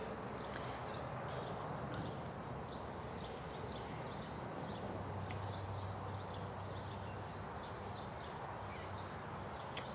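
A horse canters in a riding arena, its hooves beating a steady rhythmic clip-clop at middle distance, with birds chirping faintly in the background.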